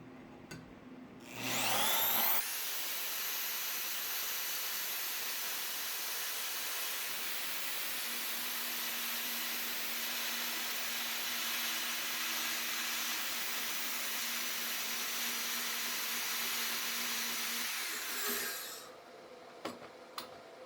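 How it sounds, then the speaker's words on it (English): Hacksaw cutting through a scrap aluminum plate, a steady, continuous rasping of strokes close up for about sixteen seconds, beginning and ending abruptly with quiet before and after. "I had to make this cut with my hacksaw"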